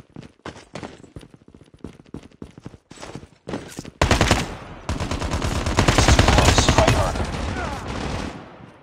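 AK47 gunfire from a mobile shooter game, PUBG Mobile or Call of Duty Mobile: rapid single shots at first, then a long, loud, continuous automatic burst, close and dominant.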